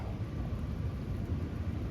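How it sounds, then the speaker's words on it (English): Low, steady rumble of thunder from an approaching thunderstorm, a continuous distant roll with a faint rain-like hiss on top, heard alone and without talk. "we got a thunderstorm rolling in"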